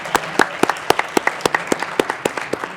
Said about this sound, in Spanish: gracias por un aplauso para él